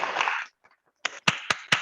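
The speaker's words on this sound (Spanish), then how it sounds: "Un fuerte aplauso." Applause at a campaign launch event for list 21 to the CODICEN: a burst of clapping fades out, then after a pause a few sharp, separate hand claps follow close by.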